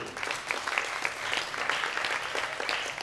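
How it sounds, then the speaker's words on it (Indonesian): A crowd claps steadily at a Bina Mandiri gathering after a researcher and Malangan mask dancer is introduced, the applause even and continuous without speech. "Tepuk tangan dulu."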